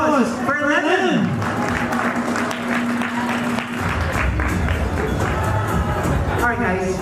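Audience applause and cheering at a World Gin Day event for Ginebra San Miguel, a steady crowd roar with clapping and voices throughout, speech and music-like tones mixed in near the start.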